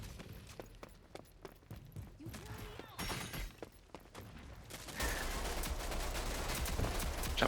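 Gunfire in the video game Rogue Company: bursts of rapid shots and scattered single cracks, growing louder and denser toward the end, with game voice lines and a player talking over the action.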